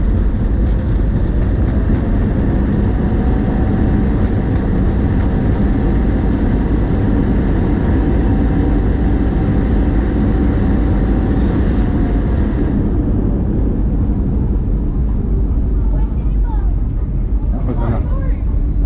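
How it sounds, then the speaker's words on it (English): Cabin view of an airliner's thrust reversers during landing on a return flight from New Zealand, a loud sustained low roar that drops off near the end as the jet slows, with a voice speaking. "You ready for thrust reverses?"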